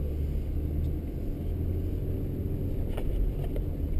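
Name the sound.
2013 Ford Escape engine running while driving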